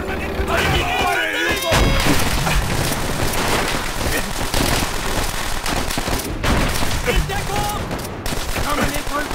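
Dense gunfire in the video game Call of Duty: World at War, sustained rifle and machine-gun bursts with heavy booms layered into a loud continuous battle, voices shouting over the fire.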